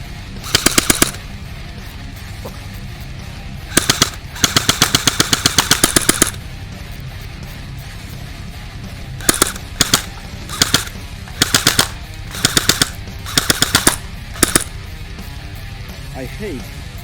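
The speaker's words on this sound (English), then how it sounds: "Let's shoot in full auto." A CM.619 airsoft gun fires in full auto, sharp rapid rattling bursts of varying length separated by pauses, loud and close.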